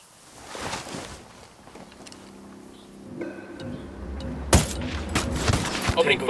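Gunfire in the tactical shooter Ghost Recon Wildlands, scattered shots and bursts amid game ambience, with one sharp loud crack near the middle.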